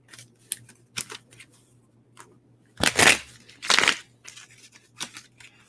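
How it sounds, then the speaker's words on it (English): Tarot cards being shuffled by hand at close range, scattered soft riffles and slaps with two louder, fuller bursts in the middle, no talk. "let me go ahead and start shuffling the cards"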